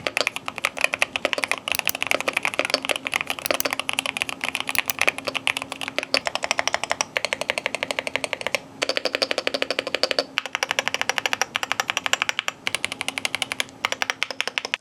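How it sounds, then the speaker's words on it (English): Fast, continuous typing on a Keychron K2 HE keyboard: a dense stream of crisp keystrokes, close and clear, with a few very short pauses between bursts. "what was a Keychron Key2HE sound test as well"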